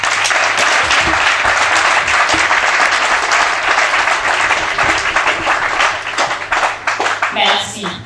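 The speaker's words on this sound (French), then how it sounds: "Est-ce que vous pouvez, s'il vous plaît, vraiment applaudir?" Loud, sustained applause fills the hall at a youth citizens' forum panel, many hands clapping steadily before tapering off near the end, with a voice briefly audible under the clapping.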